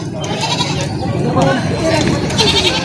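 Goat bleats ring out over a busy mix of overlapping voices, several wavering calls close by amid crowd chatter at a crowded goat market in the Philippines.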